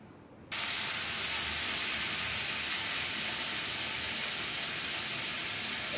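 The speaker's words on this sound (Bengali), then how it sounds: "প্রথমে এই চিংড়ি মাছটা কড়াইতে দিয়ে দেব।" Salted, turmeric-rubbed shrimp hitting hot oil in a wok set off a sudden steady loud sizzle that holds evenly to the end.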